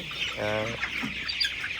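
Color Bat broiler chickens clucking in a farm shed, with one clear harmonic call near the start over a steady background of low flock murmuring.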